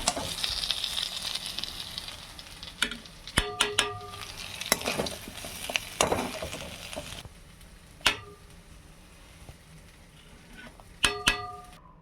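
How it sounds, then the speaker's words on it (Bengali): Fried vegetables, including capsicum, are stirred into khichuri in a pot: a soft sizzle runs throughout while a utensil scrapes and knocks against the pot in scattered bursts, with a few sharp clicks near the end. "সব সবজি দিয়ে ভালো করে মিলিয়ে দিলাম।"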